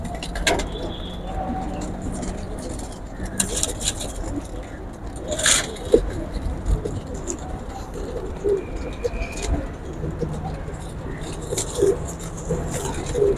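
Chinese pigeons coo on a rooftop in soft, scattered calls, fairly faint against a busy outdoor background with occasional knocks and clatter.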